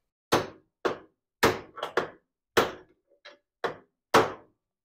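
Hammer blows on a door hinge pin from a Toyota Celica RA24, about nine sharp metallic strikes in an uneven rhythm, loud and close with short pauses and no talk.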